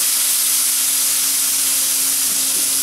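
About a teaspoon of vinegar added to liver frying in a hot pan, producing a constant loud hiss and sizzle that stays even throughout with no voices.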